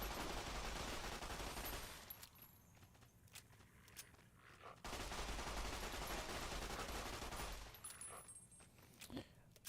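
Sustained gunfire in Fallout: New Vegas, loud broadband bursts filling the first two seconds, a lull with scattered shots, then another long heavy burst from about five to eight seconds with a few trailing reports.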